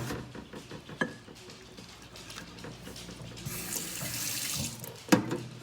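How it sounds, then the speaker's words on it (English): Water runs steadily from a tap into a jar for Rit fabric dyeing, a continuous splashing flow with a couple of sharp knocks of glass or containers, no voices. "add some mixing water, and then add another blue through the top"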